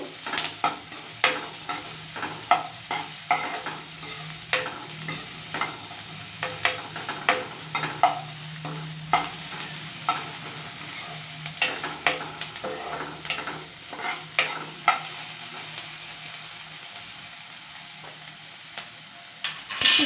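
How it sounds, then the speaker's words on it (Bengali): Mixed vegetables stir-fried in a pan before Maggi noodles are added, a continuous sizzle punctuated by regular sharp scrapes and clacks of a spatula against the pan, close and fairly loud. "সবজিটাকে একটু ভেজে নেব।"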